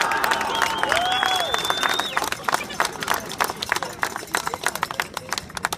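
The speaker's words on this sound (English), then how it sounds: "Give yourself applause." Fans at a St. Teresa High School event honouring the 1974 and 1975 state champion football teams clap and cheer, the applause loud at first and then thinning into scattered claps, with voices mixed in.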